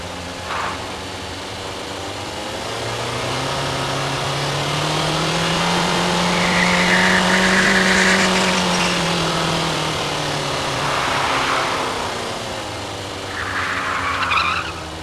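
Car engine effects built in Krotos Igniter software: a synthesized engine swells and falls in pitch as it accelerates and brakes, with tire skids and squeals over roughly fifteen seconds, loud and close, with no speech.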